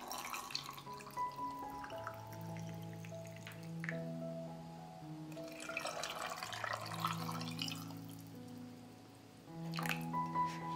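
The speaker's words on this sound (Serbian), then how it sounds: "U svaku teglu sipajte vodu da prekrije kobasice." Water is poured into glass jars packed with sausages, giving quiet trickles and drips that come and go over soft background music.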